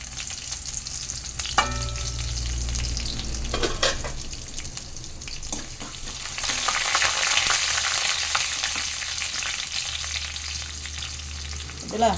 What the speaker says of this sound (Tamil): கடுகு பொரிய தொடங்கியாச்சு.